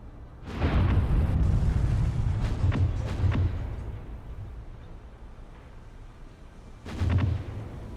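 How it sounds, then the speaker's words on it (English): Ship's guns in the naval video game War on the Sea firing heavy booming salvos, a loud burst early on with rumbling follow-up blasts and another boom near the end. "And unfortunately for us, she's firing in exactly the wrong direction."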